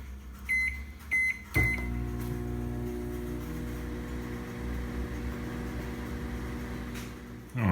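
A Sunbeam microwave oven heating nacho cheese sauce gives a few keypad beeps, then starts with a thunk and runs with a steady low hum for about six seconds before stopping with a clunk.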